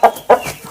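A fighting rooster gives two short, loud, close clucks in quick succession, followed by a fainter trailing call.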